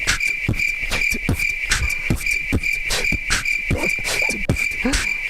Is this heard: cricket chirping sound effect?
yes